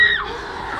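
Children at a school shout together in a brief loud burst, a noisy crowd of young voices that quickly fades into a lower, mixed murmur.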